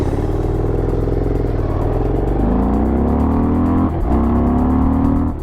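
The 110 cubic inch (1801cc) engine of a Harley-Davidson Dyna Low Rider S with a heavy breather intake accelerates hard and close, its V-twin note climbing through two gear changes before pulling on strongly.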